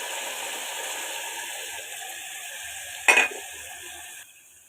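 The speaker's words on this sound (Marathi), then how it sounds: "ती उकडलेली डाळ फोडणीमध्ये ओतायची" Boiled lentils being stirred into hot spiced oil tempering for a Marathi varan, with a steady sizzle and soft scraping that swell into one louder stir before fading near the end.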